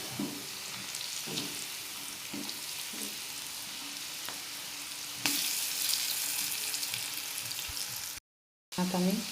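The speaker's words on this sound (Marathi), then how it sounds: "हे बघा, मस्त फ्राय होत आहेत, किती छान होत आहेत बघा तुम्ही।" Bitter gourd tikka pieces fry in a pan with a steady sizzle, occasional utensil taps, a louder burst of crackling midway and a short cut near the end.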